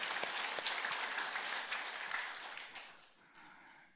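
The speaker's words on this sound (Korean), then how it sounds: "우리 하나님께 감사의 박수 올려드리십시다" A church congregation applauds during a Sunday thanksgiving worship service, a dense steady wash of many hands clapping that tapers off toward the end.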